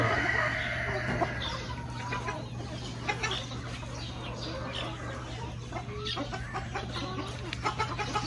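Ayam Cemani black chickens cluck repeatedly close by, soft irregular calls over a steady low hum, with occasional louder squawks.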